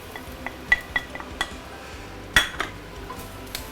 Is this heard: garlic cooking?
yes